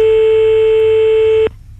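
Telephone busy tone after a dropped call, a loud steady electronic tone held close for about a second and a half before cutting off abruptly, leaving faint background noise.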